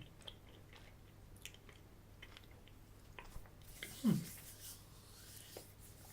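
A chocolate treat with a liquid centre is chewed quietly and close up, with soft, sticky mouth sounds and a brief louder squelch partway through.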